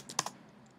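A few quick keystrokes on a computer keyboard while typing a short search query, close and fairly quiet, ending after a brief burst with no talk.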